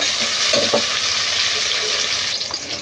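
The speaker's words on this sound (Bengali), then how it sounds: "পেঁয়াজটা আমি হালকা লাল লাল করে ভাজি করে নেব।" Chopped onions sizzling in a pan with whole spices, a loud, steady hiss of frying heard up close, broken by a couple of brief stirring knocks near the start, with no voices.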